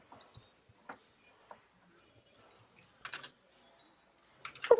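Scattered key taps come in short bursts with quiet gaps between them, close and fairly faint, and a louder cluster arrives at the end.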